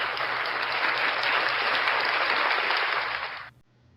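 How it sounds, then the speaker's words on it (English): A canned applause sound effect played back from a tablet, a dense even burst of crowd clapping that holds steady then cuts off abruptly near the end. "Let me see if I can find applause"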